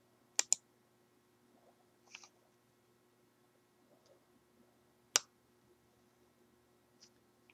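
A computer mouse clicks a few times, faint and close, in isolated sharp ticks spread a couple of seconds apart in an otherwise quiet room.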